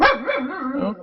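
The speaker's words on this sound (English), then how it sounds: "sorry, that was my dog." A pet dog at home lets out a loud, close bark that trails into a wavering whine or howl, alone for about a second.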